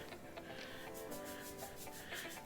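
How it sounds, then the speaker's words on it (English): Fingers rubbing castor oil into the scalp, close and quiet, a soft continuous scratching friction with rhythmic strokes and no talking. "I go in and I rub it in"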